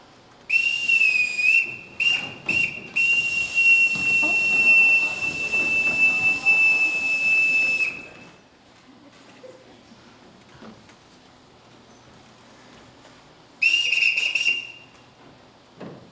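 A shrill signal whistle sounds for the children in a school stage production of The Sound of Music: one long piercing blast, then a short break, later a second shorter blast, with faint stage noise between.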